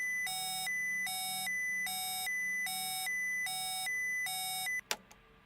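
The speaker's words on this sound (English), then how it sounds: "well that's what the master alarm sounds like." A spacecraft master alarm in a spaceflight simulator game sounds six evenly spaced, loud electronic tone bursts in a steady rhythm. It then cuts off abruptly with a sharp click and a short thump.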